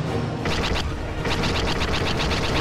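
Blaster fire aimed at a cruiser in Star Wars Battlefront II, fast repeated bursts of sharp shots in quick rhythmic volleys over a heavy rumbling battle backdrop.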